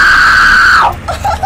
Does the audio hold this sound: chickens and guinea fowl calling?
no